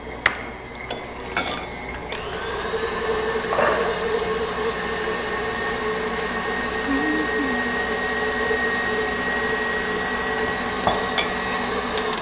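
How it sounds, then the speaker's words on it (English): An electric mixer beats cheesecake batter for a saltfish cheesecake, a steady whirring motor drone held at an even level throughout, with a few sharp clicks near the start and no talk. "we're going to stop our mixer because we don't want it splattering all over the place"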